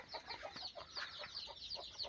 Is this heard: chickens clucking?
yes